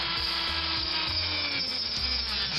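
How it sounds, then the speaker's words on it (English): A small drill steadily bores out the pillows on a Corgi Chevrolet Impala Kennel Club model car, giving a continuous close whirring and grinding with no breaks and no talking. "here we are, drilling out the pillows"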